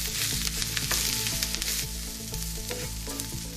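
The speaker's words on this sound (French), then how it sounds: "Et on remue bien." Seasoned food, salted and peppered, sizzling loudly in a pan for sweet potato and lamb croquettes, with a constant close frying hiss and scraping stirring strokes throughout.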